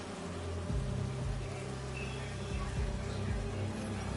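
Holographic bee wolves in Spider-Man 2 give off a steady, low insect-like buzz with faint droning tones, continuous and fairly quiet throughout.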